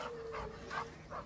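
A dog growls low and steadily at close range, with a few brief higher bursts over a continuous rumble, in a hostel where a golden retriever and two Labradors are meeting another dog.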